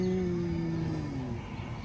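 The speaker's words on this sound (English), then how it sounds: "The cow." A cow at a pumpkin patch farm lets out one long, loud moo that holds steady and slowly falls away near the end, heard close up with no talking over it.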